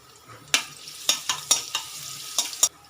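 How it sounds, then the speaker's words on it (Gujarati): Cumin and garlic paste sizzling in oil for a brinjal curry, close crackling sizzle with a series of sharp pops and stirring scrapes. "આપણે આ હિંગ નાખીશું એટલે સરસ આપણું ફ્રાય થઈ જાય"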